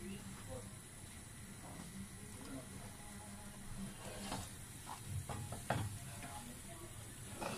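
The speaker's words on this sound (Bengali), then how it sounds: "ঘন ঘন নাড়া দিতে হবে" Schezwan sauce being stirred in a pan, with a soft steady sizzle and intermittent scraping strokes of the spoon against the pan, quiet and close, with someone speaking at times over it.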